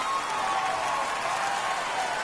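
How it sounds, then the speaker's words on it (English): Baseball crowd at a minor-league game cheering and applauding after a run scores in the bottom of the seventh, a steady dense roar of claps and shouts with no let-up throughout. "And the crowd goes wild."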